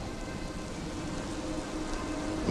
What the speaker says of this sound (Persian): بعد جوری بارون میاد.